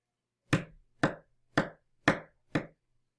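Five evenly spaced taps on a hard surface, tapping out the sounds of a spoken word, sharp and close, in a steady rhythm with silence between them.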